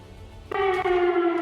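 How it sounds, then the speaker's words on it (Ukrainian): An air raid siren interrupts a press conference in Ukraine, starting abruptly with a loud, steady wailing tone that holds for over a second, close and clear with no talk. "Її перервав сигнал повітряної тривоги."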